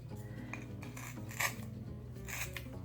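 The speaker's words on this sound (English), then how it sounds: "And just trim that tape off." A few crisp snips of scissors trimming tape close by, spaced apart in a quiet room with faint background hum.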